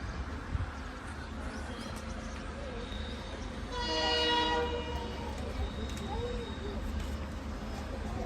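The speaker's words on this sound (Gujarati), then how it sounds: "કોઈ તો એક ટ્રેન આવી રહી છે WDG4 સાથે" A train hauled by a WDG4 diesel locomotive pulls into a station, its horn sounding clearly midway over a steady rumble of engine and rolling stock, with background voices.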